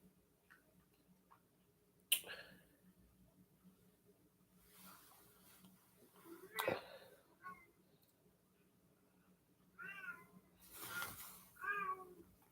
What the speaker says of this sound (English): My kitty cat at my door.